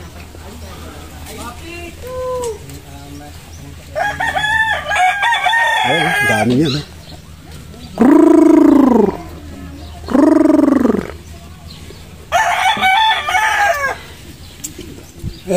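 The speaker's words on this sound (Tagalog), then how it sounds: "Mga nag-aalaga sila ng sasabungin na manok dito." Fighting roosters bred for cockfighting crow loudly several times in a row, long strained calls close by, with clucking fowl and someone talking between the crows, by the seaside.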